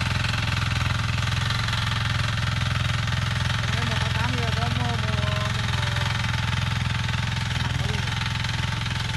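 Vang Trau 178 single-cylinder diesel engine idles steadily nearby, a loud, constant rapid chugging with faint voices underneath.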